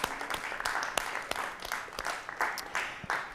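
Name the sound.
audience applause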